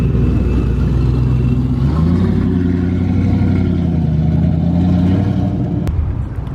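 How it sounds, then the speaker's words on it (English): A Pro-Charged Mustang engine rumbles and revs at a car meet, a loud, deep, steady tone that climbs in pitch briefly and settles again, with no voices over it. "This is that Pro-Charged Mustang"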